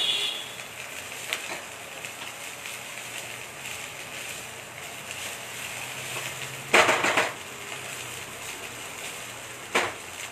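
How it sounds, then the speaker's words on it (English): Steady sizzling of broccoli and olives stir-frying in a pan, with a couple of sharper scraping bursts as they are stirred, close and moderately loud. "Stir frying the vegetables is the first step here"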